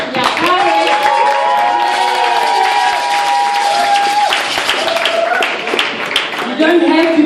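Loud, continuous audience applause and cheering for a Zimbabwean music and dance group at a live show at Ashkenaz. The clapping runs throughout, with a sustained tone and talk layered over it.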